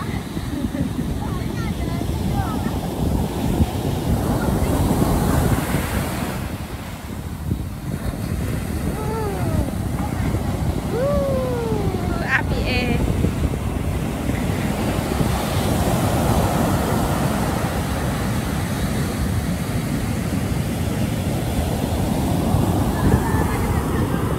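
Ocean surf at Lampon roars in a continuous wash with strong wind noise, and a voice can be heard briefly partway through over the steady waves.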